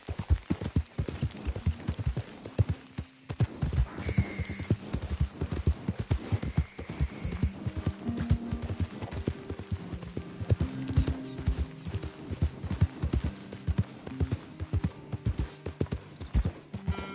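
Galloping horse hooves clip-clop continuously and loudly in Red Dead Redemption 2, a fast, driving rhythm with occasional snorts and soft music running underneath.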